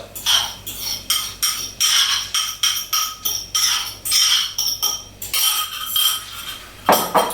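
Egg and parmesan mixture being poured into a hot spaghetti carbonara pan, then stirred quickly, giving a run of rhythmic metallic scrapes and clinks of utensil against pan, close and fairly loud with brief pauses.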